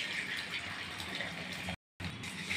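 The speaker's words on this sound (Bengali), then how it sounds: "এখন আমি কড়াই গরম হয়ে গেছে, তাতে তেল দিয়ে দিচ্ছি।" Oil pouring into a hot wok (kadai) before frying egg for a fried-rice dish, a steady close hiss and gush running continuously, cut off by a brief gap before resuming, with no talk.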